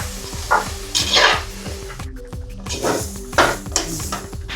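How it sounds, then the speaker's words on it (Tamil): Soaked soya chunks tossed and fried in a pan for a soya biryani, with a steady sizzle under a series of scraping stirs and clinks of the spoon against the pan, close and fairly loud, no voices. "எல்லா சோயாபீன்ஸையும் போட்டு கொஞ்சம் ஃப்ரை பண்ணி எடுத்துக்கலாம்."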